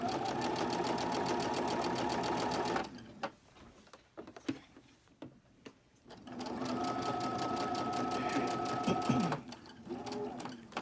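Sewing machine stitching cotton fabric, a steady close mechanical whir with rapid ticking that runs for almost three seconds, stops through a quiet pause with small handling sounds, then starts up again and runs steadily to the end.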